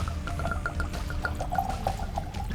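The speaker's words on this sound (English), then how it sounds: "Let's go ahead and get our first pour out of this Larceny bottle." Larceny wheated bourbon whiskey is poured from the bottle into a glass, giving a close, gurgling trickle of liquid with rhythmic glugs that rise in pitch as the glass fills, alone without talk.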